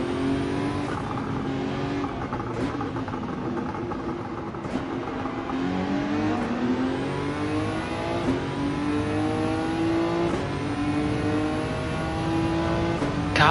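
Race car engine in Gran Turismo 7 on a final lap, a loud continuous high-pitched whine revving up and down through gear changes, close and steady throughout.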